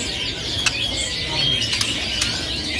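Magpie robins and turtledoves, freshly unpacked at a bird kiosk and bathing, fill the air with a steady chatter of high chirps, punctuated by a few sharp clicks.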